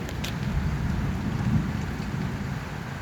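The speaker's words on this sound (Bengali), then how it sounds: "বৃষ্টি হইতেছে।" Heavy rain pours down in a Saudi Arabian town, a dense, continuous roar of water with a low rumble beneath it, steady and fairly close, with no voices.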